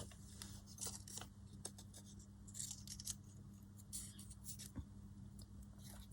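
Scissors cutting a paper stamp, with a series of crisp snips and rustling paper at close range over a low background hum.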